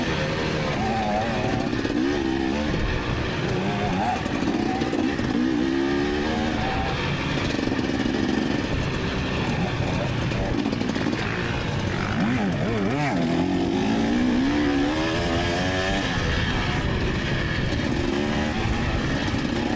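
A 2024 KTM 300 XC-W two-stroke dirt bike rides a trail, its engine buzzing loud and continuous with constant throttle changes and revving pitch sweeps up close.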